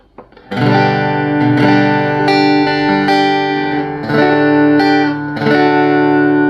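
An acoustic guitar amplified through an LC-5 preamp EQ strums a series of bright, ringing chords, loud and close, with no voices.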